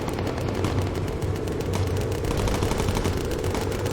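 Machine guns on a WWII bomber roar in continuous rapid bursts during a Bomber Crew: USAAF air battle, a loud, dense, unbroken rattle with no voices.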